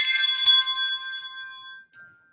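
A bright bell chime rings once at a kindergarten Christmas performance, loud and close, its shimmering metallic tone decaying over about two seconds before a faint second tap near the end.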